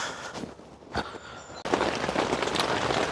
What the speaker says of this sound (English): It's raining. It's absolutely peeing it down.